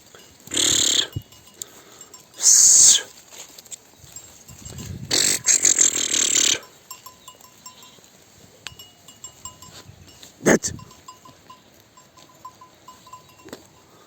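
Lambs and their mothers grazing on open pasture, with several loud bleats in separate bursts and a few short calls, spread over a quiet outdoor background.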